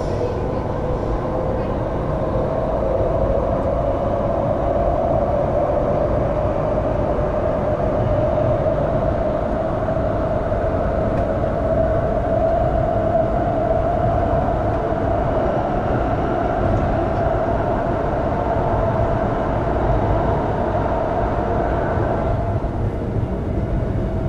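Perth suburban electric train heard from the cab as it departs and runs into a long tunnel beneath a property development, a steady loud rumble with a rising whine, under continuous narration.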